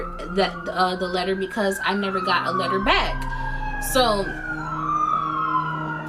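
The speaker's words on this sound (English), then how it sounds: "I'm sorry about the sirens. Something is going on." Emergency vehicle sirens wail outside, rising and falling in a steady cycle at moderate loudness beneath a person speaking close by.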